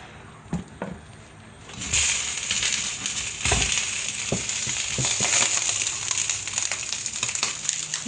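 Oil heating in pans on two stoves, a bright continuous sizzle that swells after a quieter start, with scattered clinks and knocks of utensils nearby.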